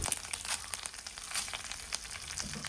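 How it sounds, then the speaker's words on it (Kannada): Garlic cloves, curry leaves and cut dried chillies fry in oil for sambar, a soft, continuous crackling sizzle with small pops, close and fairly quiet. "ಎಂಟು ಎಸಳು ಬೆಳ್ಳುಳ್ಳಿ, 2 ಎಸಳು ಕರಿಬೇವು ಹಾಗೆ 10 ಒಣಮೆಣಸನ್ನು ಕಟ್ ಮಾಡಿ ಹಾಕ್ತಾ ಇದ್ದೇನೆ."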